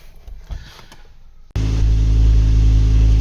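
A Ford Focus ST with a boost fault (code P0238) starts up at 1.5 seconds, its engine catching abruptly and then idling loudly and steadily up close after a quieter stretch of workshop noise.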